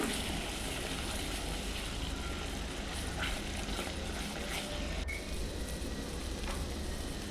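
Brinjal curry fries in a pan as ground masala is stirred in, making a steady, even sizzling hiss with a few faint scrapes of stirring.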